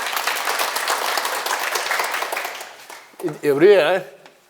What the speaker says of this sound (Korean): 이 질문해 주신 분께 큰 박수 부탁드립니다